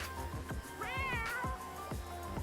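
A cartoon cat in the Walkabout Mini Golf video game, Laser Lair course, meows several times in a playful, rising-and-falling voice over a steady background game music bed.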